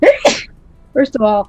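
A sharp two-part sneeze bursts out nearby, followed after a short pause by a person speaking briefly.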